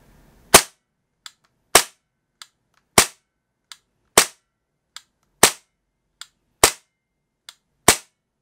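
Tokyo Marui USP9 airsoft pistol firing with blowback: about seven sharp, loud, evenly spaced shots, each followed by a lighter mechanical click, with no talking.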